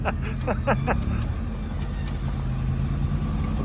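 A Toyota crawler truck pulling a trailer, its engine giving a low steady rumble throughout, with a few sharp clicks and knocks early on and no voices.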